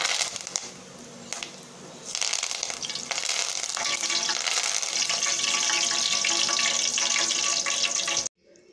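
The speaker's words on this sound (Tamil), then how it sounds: "ஸ்டவ்வை ஆஃப் பண்ணிவிட்டு இந்த எண்ணெயில் லேசாக போட்டு கருவேப்பிலை எடுக்கணும்." Curry leaves dropped into hot oil on a switched-off stove, for making kara boondi, with a soft start that turns into a loud, steady crackling sizzle lasting several seconds before cutting off.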